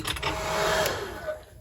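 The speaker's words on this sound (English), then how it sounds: "I'll hit this with the dryer for just a little bit before I go inside." Hair dryer blowing steadily on a junk journal page, a continuous airy whir held for a moment close by, no talking.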